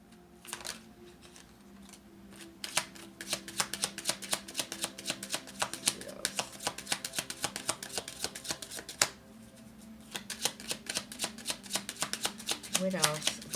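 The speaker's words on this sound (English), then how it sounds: "All the cards have been cleansed and shuffled." Cards being shuffled in quick riffling bursts, a fast crackle of flicking edges that starts and stops several times at moderate volume, with no voices.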